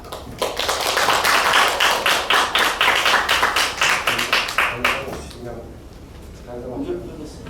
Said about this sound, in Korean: 여러분들 뜨거운 박수로 맞이해 주셨으면 고맙겠습니다